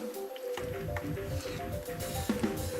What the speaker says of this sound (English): I want it to continue to simmer and boil